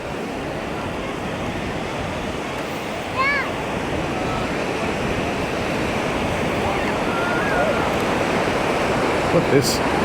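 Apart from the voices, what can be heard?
busy beach with ocean waves in Playa del Ingles, Gran Canaria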